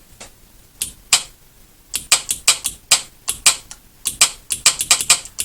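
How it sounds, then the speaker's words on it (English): A DC solenoid wired to a homemade test switch clicks sharply as it is switched on and off, about twenty crisp, close clicks in irregular bursts with brief pauses between them. "Sounds like this solenoid's good."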